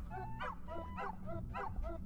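A small cartoon dog in the Wandersong video game gives a series of about five short, close, yappy barks in quick succession, with a soft music bed underneath.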